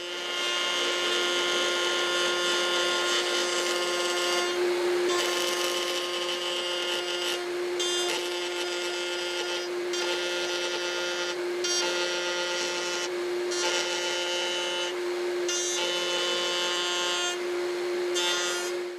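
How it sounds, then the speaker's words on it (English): A cheap router bit on a router table trims the edge of a wooden circle, producing a continuous close whining cut with a steady tonal hum and repeated rhythmic pulses as the workpiece turns. "And now it is cutting like I want, though I can tell this cheap router bit cuts poorly"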